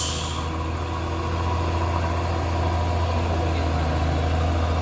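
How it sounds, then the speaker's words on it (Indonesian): A heavy Mitsubishi Fuso truck engine rumbles steadily at close range while towing a Mitsubishi L300 van, a constant low drone without pauses. "Ini dia truk Fuso menarik L300."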